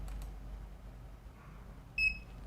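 A short electronic beep from a home-built IoT server as it learns a TV power button from an IR remote, one brief bright tone rising over a quiet background hum.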